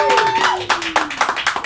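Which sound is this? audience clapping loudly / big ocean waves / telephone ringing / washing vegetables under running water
audience clapping loudly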